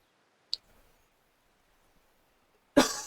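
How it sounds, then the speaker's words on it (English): A person coughs turned away from the microphone, one short burst at the end after a quiet stretch broken only by a small click. "I have to really turn away from the mic every time I go to cough."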